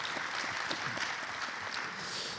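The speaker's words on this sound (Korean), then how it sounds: "장관님께 큰 박수 부탁드리겠습니다." A conference audience at the opening ceremony of the 2023 Korea Smart Water Grid society meeting applauds the minister with a steady, dense wash of clapping that fills the whole stretch without talk.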